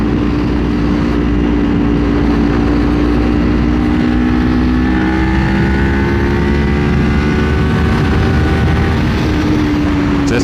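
A 2024 Kawasaki Ninja 500 pulls in fourth gear on a highway. Its loud, steady engine drone climbs gradually in pitch, blended with constant wind roar from start to finish.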